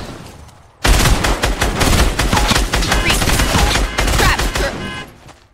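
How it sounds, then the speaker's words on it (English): Dense, loud bursts of rapid gunfire from Fortnite Battle Royale break in after a quiet start and keep going almost without pause, close and heavy, with crackling shots piling up through the whole exchange. "Somebody's shooting at us."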